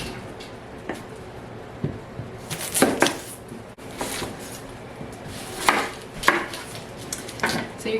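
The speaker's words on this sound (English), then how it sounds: "I just quarter this. I'm gonna do 2 big onions in here." Knife quartering two large whole onions on a cutting board while making broth, giving scattered sharp chops and thuds, some clustered in quick pairs, close and moderately loud over a quiet kitchen background.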